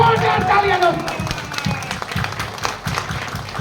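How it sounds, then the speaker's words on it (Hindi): Loud audience applause at a business seminar hall in Bhagalpur, dense rapid clapping from a crowd that starts strong and gradually thins out, with a voice speaking over it. "एक बार जोरदार तालियां, जोरदार तालियां दो।"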